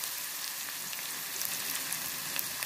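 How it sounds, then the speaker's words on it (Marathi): Chopped onion frying in a pan over medium gas heat for methi amti, a steady soft sizzle with faint crackles throughout, close and even. "कांदा, कांदा थोडस ताजून घ्या।"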